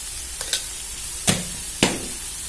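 Chopped onions with salt and turmeric sautéing in a pan, with a steady soft sizzle broken by three sharp scraping stir strokes as they are tossed for kanda pohe.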